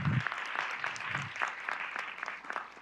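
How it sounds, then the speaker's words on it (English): A school board meeting audience claps for a student track and field champion, a moderate, fairly quiet patter of hands with a few louder individual claps and no talk over it. "So let's give Ryan a round of applause."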